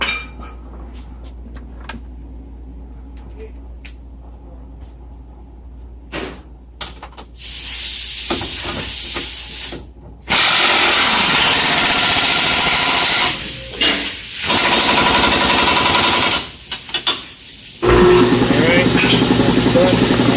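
A 19mm socket tightens a lower control arm bolt on a Hyundai Santa Fe during control arm and ball joint replacement, giving loud, close, harsh bursts of hissing mechanical noise that run for several seconds with short gaps, after quieter scattered clinks.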